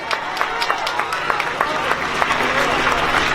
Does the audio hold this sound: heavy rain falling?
no